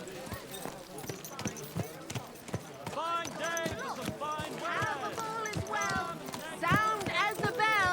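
Horse hooves thud in steady, evenly spaced beats while riding in the medieval video game Kingdom Come Deliverance II, close and clear, with voices speaking over them in the second half.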